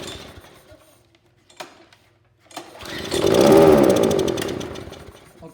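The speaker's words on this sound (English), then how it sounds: "so the engine runs" A lawn mower engine test-run on starting fluid sputters briefly after a couple of quiet pulls, then catches and runs loudly for a couple of seconds before dying back down.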